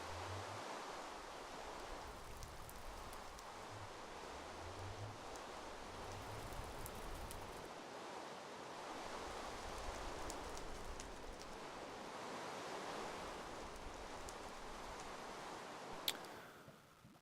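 Steady rain hisses continuously in a video game world, a soft, even wash of drops throughout, with faint low thuds early on.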